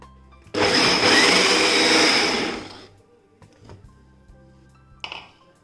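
A kitchen mixer grinder runs loud and whining for about two seconds while grinding appam batter, then winds down and stops, followed by quiet clatter and a short metallic rattle as the jar is handled.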